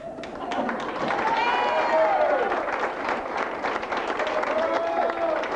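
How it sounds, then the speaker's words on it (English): An audience at a charity shag dance contest claps steadily at moderate volume while voices and whoops rise and fall over the clapping. "Now we'll let you clap for Cougars as we introduced him from Ducks."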